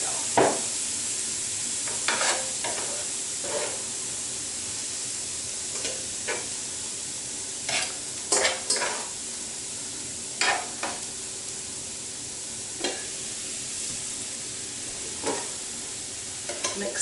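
Pork fried rice with soy sauce stir-frying on a hot pan, continuous sizzle broken by repeated short scraping stirs at irregular intervals, no talking.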